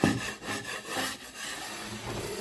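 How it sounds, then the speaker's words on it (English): A spackle knife scrapes across a drywall patch repair to knock down heavy bumps, a soft rasping rub in several uneven strokes, quiet and close with no talking. "I'm just going to take my get my spackle knife and just glean over this a little bit"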